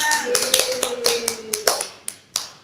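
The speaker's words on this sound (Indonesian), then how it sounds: "Kita tepukkan untuk kalian semua" A few people clap for primary school pupils in a classroom, sparse uneven claps close by while a sustained tone fades out underneath.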